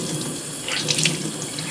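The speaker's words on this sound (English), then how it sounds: "squeezing it under the water here until the water's running clear" Tap water runs into a sink while a makeup beauty blender sponge is squeezed and rinsed under the stream, a close, steady gush with brief splashy swells as the sponge is worked.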